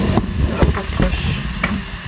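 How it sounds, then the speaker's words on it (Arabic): Onions sizzle in a covered pan, a dense close frying hiss with a few soft knocks and scrapes of a utensil scattered through it. "انا هنا غطيت على البصل تاعي باش يتقلى مليح."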